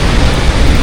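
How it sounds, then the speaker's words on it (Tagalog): Heavy rain pours down steadily and loudly during a flood along the Marikina River in Metro Manila, a dense unbroken roar with low rumbling throughout and no voices. "Lumakas naman po ulit ang ulan ngayon."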